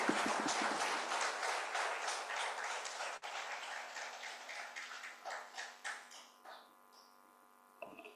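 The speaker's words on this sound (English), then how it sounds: "the applause can be roaring enough for such a great session" A summit audience applauds after a speech in Delhi, dense clapping that thins out and fades over several seconds beneath a faint steady hum.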